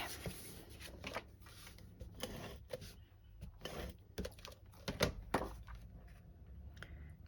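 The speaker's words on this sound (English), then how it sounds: "So I've already got these scored, so I'm just literally folding and burnishing." Scored cardstock is folded and burnished by hand while making Easter greeting cards, giving soft close rustles, papery slides and sharp taps in an irregular series, quiet overall with no speech.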